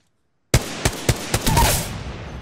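Gunfire in Apex Legends on the Kings Canyon map: four or five sharp, loud single shots at uneven intervals break a silence, followed by a louder sustained blast that slowly fades.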